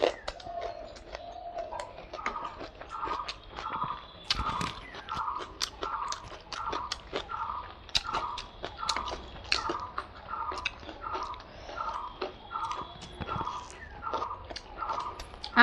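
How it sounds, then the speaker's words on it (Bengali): Chewing biryani in an eating challenge, close to the microphone: steady, rhythmic wet chewing and soft crunches repeating about every half second, with no talk. "আমার মেয়ে তাড়াতাড়ি খাচ্ছে।"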